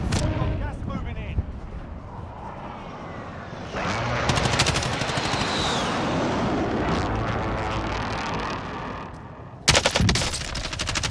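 Rapid bursts of video game gunfire rattle throughout, with a dense sustained stretch of shooting in the middle and a sharp burst near the end, under excited voices talking over the action.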